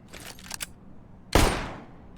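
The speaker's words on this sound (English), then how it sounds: "Throwing a flashbang." A CS:GO flashbang lands with one sharp, loud burst that fades over about a second, after a few lighter clicks and rattles of the throw.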